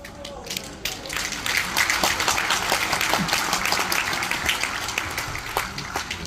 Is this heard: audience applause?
yes